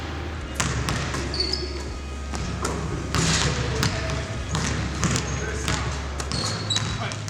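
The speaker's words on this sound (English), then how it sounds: "The sound of basketball to hardwood deep into March." A basketball bounces repeatedly on a hardwood court during March play, sharp thuds scattered over a busy gym backdrop of squeaks and crowd noise.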